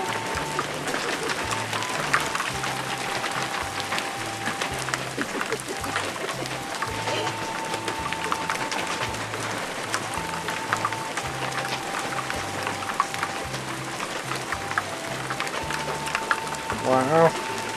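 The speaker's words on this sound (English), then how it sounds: "I heard it on the carport." Pea-sized hail rattles steadily on a carport during a storm at a farm, a dense continuous patter of small hard impacts, with people murmuring faintly underneath.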